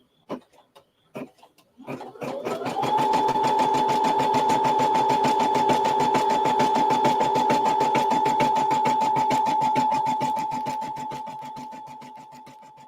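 An embroidery machine stitches in the hoop with a rapid, steady mechanical chatter and a sustained motor whine, close and loud, starting after a few clicks and running continuously before easing slightly at the end.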